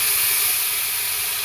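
Onion paste with a little ginger-garlic paste hits browned fried tomato in a hot pan, giving a loud, steady, close sizzling hiss with no break.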